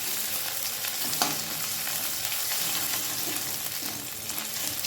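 Grated ginger and crushed green chilli fry in a pan over a low gas flame, a steady continuous sizzle with a brief stir scrape partway through, close and without talk.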